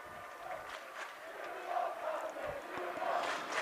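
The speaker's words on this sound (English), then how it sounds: "The Skyridge student section, which is of noticeable size here in the final, trying to cheer on their girls soccer team" A sizable high school student section cheers at a girls soccer final between Skyridge and Riverton, a distant, steady crowd roar with chants rising and falling across the stands.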